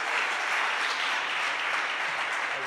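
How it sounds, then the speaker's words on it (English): Continuous applause from an audience at a local game-industry hiring meet and greet, an even wash of clapping that holds steady from start to finish with no talk over it. "let's have a big round of applause for tonight's meet and greet."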